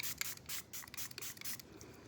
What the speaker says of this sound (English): if I showcase this setting spray, shake it up, it just makes everything like melt in.